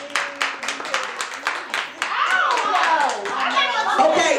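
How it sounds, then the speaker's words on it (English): A talk-show audience claps in quick rhythmic bursts, then a looser wash of clapping and lively voices carries on close by. "Clap if you think that's wrong."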